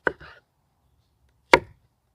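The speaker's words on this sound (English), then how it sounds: "Now from right here, we're gonna cut these onions probably around 3/8 of an inch." A knife slicing straight down through onions into rings about 3/8 inch thick, producing a short double chop followed by a single crisp cut against the board after a pause, close and clear with no talk.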